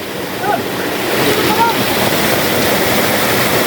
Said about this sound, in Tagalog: Grabe lakas ng tubig.